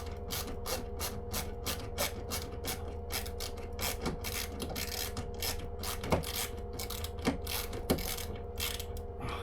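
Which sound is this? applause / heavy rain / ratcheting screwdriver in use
ratcheting screwdriver in use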